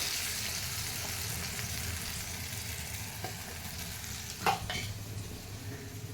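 Ginger, cumin, chili, Kashmiri chili and turmeric fry in a pan with fully melted tomato, giving a steady close sizzle while a utensil stirs and scrapes, with a sharper clatter near the end.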